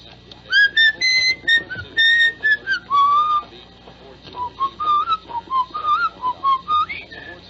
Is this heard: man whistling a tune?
yes